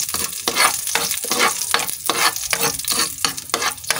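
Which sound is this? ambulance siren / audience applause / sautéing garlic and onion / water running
sautéing garlic and onion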